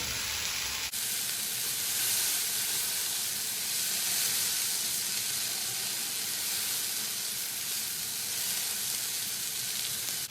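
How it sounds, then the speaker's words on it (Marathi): Okra (bhindi) sabzi with coriander powder, turmeric, red chilli and garam masala cooks on low heat in a pan, giving a steady, loud, continuous sizzle and hiss of frying and steaming throughout. "आता ही भेंडी आपण साधारण 2 मिनिटांसाठी वाफू देऊया।"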